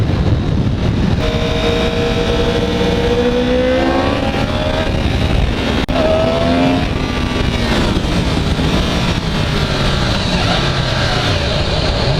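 A 2015 Yamaha R1 sportbike accelerates hard at high revs, its loud engine note climbing through the gears with brief shift dips, heard over constant wind rush.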